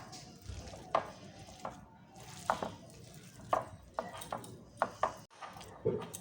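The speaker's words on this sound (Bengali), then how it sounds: "এখন মেখে নিই" Jackfruit kofta mixture with rice flour being kneaded by hand, giving a run of soft, wet squishing and pressing sounds in an uneven rhythm, close and fairly quiet, with no one speaking.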